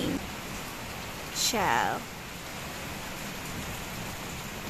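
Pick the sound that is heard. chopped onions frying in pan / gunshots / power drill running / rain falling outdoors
rain falling outdoors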